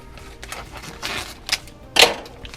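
Scissors snip open plastic packaging around a buffalo steak, giving a few short, sharp crinkling cuts and rustles at close range, with the loudest cut near the end.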